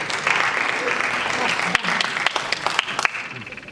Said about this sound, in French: On applaudit Samia s'il vous plaît.